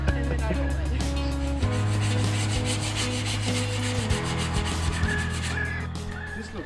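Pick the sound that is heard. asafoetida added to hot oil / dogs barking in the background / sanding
sanding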